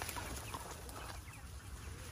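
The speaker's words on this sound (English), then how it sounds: "They're beautiful chickens." Chickens cluck softly in a steady background murmur of farm noise, with no voices, continuing throughout.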